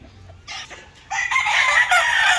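A super brown red broodstag rooster of the Mount Banahaw line crows once close to the microphone, a loud, rising cock-a-doodle call following a few softer clucks.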